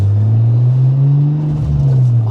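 A Nissan Skyline R34 four-door saloon's RB25DET Neo turbocharged straight-six revs smoothly and loudly close by, a steady deep engine drone that swells slightly before easing off, with no talk.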